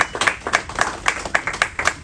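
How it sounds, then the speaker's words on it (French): A small crowd at an MMA press conference claps in a steady, close, fairly loud rhythm of distinct individual hand claps, mixed with faint background murmur. "Vous pouvez l'applaudir, c'est un très bel accueil qu'il nous fait aujourd'hui."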